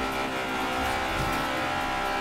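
A Honda S2000 Fast & Furious edition engine revs hard in the racing game Forza Horizon, a steady loud high-pitched whine held for a couple of seconds with no talk.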